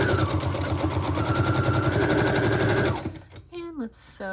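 A sewing machine runs in a steady rapid stitching burst for about three seconds while sewing pockets from old recipe cards, then stops; a voice speaks briefly afterward.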